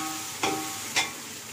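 Chopped tomatoes sizzle softly with browned onions in a pan for ghee rice, with two quick stirring scrapes breaking the steady frying hiss.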